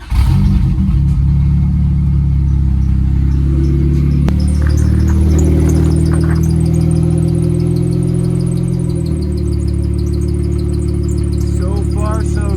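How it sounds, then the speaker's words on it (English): A turbocharged Honda Integra fires up and settles into a loud, steady idle at close range. Its deep drone holds throughout, with slight shifts in pitch and some faint mechanical chatter. "So what I'm gonna do now is start the car"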